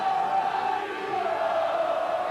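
Large stadium crowd at a 1999 Bradford versus Workington rugby league match roars and cheers in a steady, sustained swell, a broad wash of voices that holds loud throughout.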